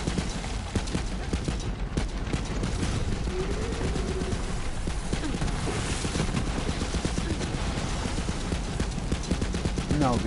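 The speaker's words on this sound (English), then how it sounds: "Let's try the lead sprinkler." The Lead Sprinkler gun fires in Borderlands 3 as a dense, continuous rapid patter of shots, loud and unbroken throughout, with faint game sounds and a voice mixed underneath.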